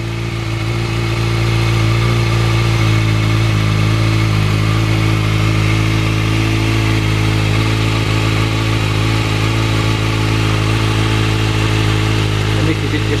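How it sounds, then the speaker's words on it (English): A motorcycle fitted with an Akrapovic exhaust idles while standing still, a steady loud low rumble with even harmonic drone and no revving, running continuously throughout. "Such a quality sound from that Akrapovic exhaust."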